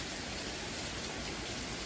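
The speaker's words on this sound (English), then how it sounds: "All this rain right here." Heavy storm rain with gusty wind pours as a steady, dense hiss, faint and continuous with no breaks or voices over it.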